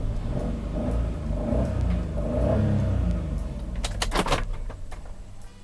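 A parked car's engine hums steadily, then revs up in a few short bursts, with some light rattling near the end.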